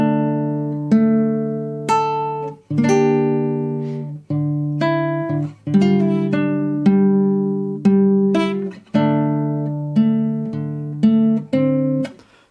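A guitar plays the second line of a theme from The Witcher 3, a slow sequence of plucked notes and chords, each ringing out and fading before the next, clear and close.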